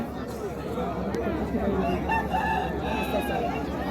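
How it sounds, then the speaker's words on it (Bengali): Roosters at a cockfight during a school's 75th anniversary celebration, clucking and crowing up close amid a steady crowd murmur, with people chattering throughout. "মোরগ লড়াই শুরু হচ্ছে"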